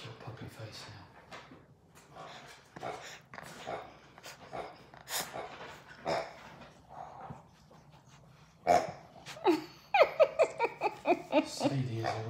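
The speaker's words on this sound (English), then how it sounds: "Is one of my puppies making that weird noise?" Odd snorting, snuffling noises from a Labrador puppy, close by, in short irregular bursts, ending with a run of quick rhythmic squeaks; a person speaks softly in places.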